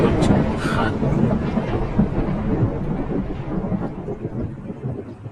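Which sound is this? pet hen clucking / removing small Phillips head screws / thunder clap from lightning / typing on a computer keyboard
thunder clap from lightning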